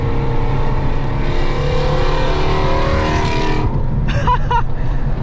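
A lowered, bagged Shelby GT350 V8 roars close by with a loud, steady rumble. The engine builds to a rising high-rev wail, then a few sharp throttle blips follow.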